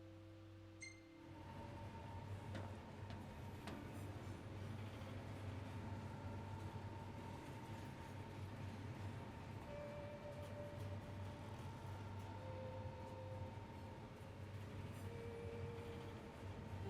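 A train interior in the video game Final Fantasy XV gives a steady low rumble of rolling wheels and car noise, starting after a brief quieter moment and continuing evenly with faint clicks and tonal hums on top.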